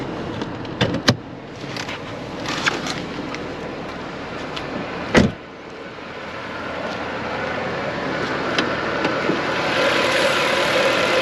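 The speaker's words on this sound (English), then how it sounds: "the glorious M156. I'll let you guys hear it run for a second here" A Mercedes ML63 AMG's M156 V8 idles with the hood open, a steady mid-range rumble holding throughout, with a few sharp clicks or knocks near the start and a louder thump partway through.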